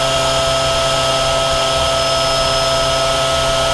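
A CNC machine runs a corner rounder tool at 8,000 RPM on a metal ram shaft, giving a loud, steady, high whirring whine with a constant spindle hum and no pauses.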